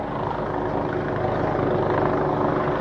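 A helicopter hovers overhead above a garden, its rotor chop and engine whine forming a steady, fairly loud drone with no voices.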